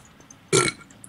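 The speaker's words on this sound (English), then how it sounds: "I burped." A single short, loud burp close to the mic, set against quiet room noise.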